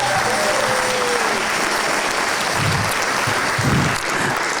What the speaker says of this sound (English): So let's give a round of applause for both the district and for the students